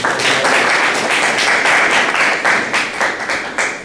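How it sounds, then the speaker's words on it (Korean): Enthusiastic audience applause for a professor at an academic talk on polymer thin films, a loud, close, dense patter of clapping with slight surges, sustained throughout. "좋은 말씀 주신 배치병 교수님께 다시 한번 박수 부탁드리겠습니다"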